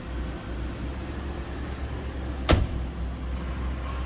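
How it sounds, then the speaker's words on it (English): A 1997 Lincoln Town Car Cartier door shuts with a single solid thump, close by, against a steady low engine hum. "Door closes nicely"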